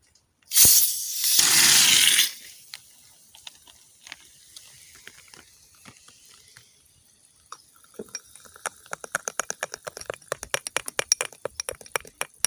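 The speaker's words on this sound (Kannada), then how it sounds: "ನಮ್ಮ ಸೋಡಾ ಯಾವ ರೀತಿಯಾಗಿ ನೊರೆಯಾಗಿ ಬರ್ತಿದೆ ಅಂತ." Soda is poured into a sweetened wild mango fruit drink and foams up. A loud rushing burst comes first, followed by a quiet stretch, then a growing crackle of tiny popping bubbles toward the end.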